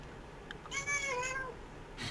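A single cat meow rises and falls in pitch, clear but fairly quiet, over a faint room hiss during a board game session, with nobody speaking.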